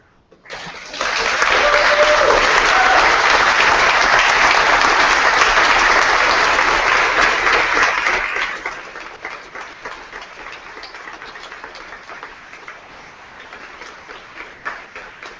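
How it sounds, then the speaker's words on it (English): A graduation convocation audience breaks into loud, sustained applause that swells within a second and holds steady for about eight seconds, then thins to scattered claps and murmuring crowd noise. "give them a thunderous round of applause"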